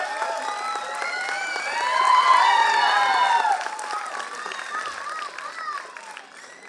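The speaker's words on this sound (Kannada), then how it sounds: "ನಿರ್ಮಾಪಕರಾದಂಥ ರಮೇಶ್ ರೆಡ್ಡಿ ಸರ್ ಅವರಿಗೆ ಪ್ರೀತಿಯ ಚಪ್ಪಾಳೆಗಳ ಮೂಲಕ ಸ್ವಾಗತಿಸೋಣ ಪ್ಲೀಸ್" Audience applause and cheering at a song launch event welcoming producer Ramesh Reddy, a sustained crowd roar swelling midway, with music and voices over it.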